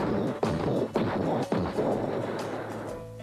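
A human voice mimics 40-millimeter anti-aircraft cannon fire as a series of loud, evenly spaced booming blasts, roughly every half second, each followed by a noisy rumbling tail, with no other sound.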